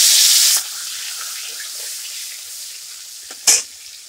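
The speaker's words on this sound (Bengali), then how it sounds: "তেলটাকে একটু গরম করে নিয়ে একটু মাছ ছেড়ে দেবো। মাছটাকে একটু ভেজে নেব হালকা করে।" Fish lightly frying in hot oil makes a bright sizzle that bursts loud at the start, then settles into a softer steady crackle, with one short sharp flare-up near the end.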